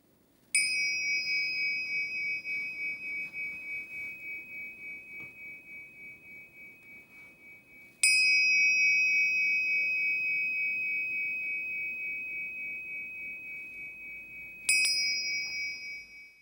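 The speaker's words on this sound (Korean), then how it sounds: "잠시 후 맑은 종소리가 3번 울립니다." A clear meditation bell rings three times, each strike bright and sustained with a long ringing decay, widely spaced and heard alone over a faint hush.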